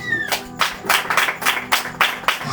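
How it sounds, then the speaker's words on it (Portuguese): A church congregation claps together in a steady, rhythmic burst of applause, full and close, lasting a few seconds without speech. "Pode aplaudir Jesus."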